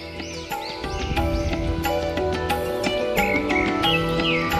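Birds on a hillside near the Ganesh temple at Shil Phata give repeated short chirps and whistled calls, steady and moderately close, over a continuous tonal background.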